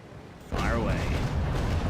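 Cannons aboard the sailing ship Trincomalee in a naval video game fire a broadside: a sudden heavy boom erupts halfway in, then a loud rolling rumble sustains to the end while faint voices continue underneath.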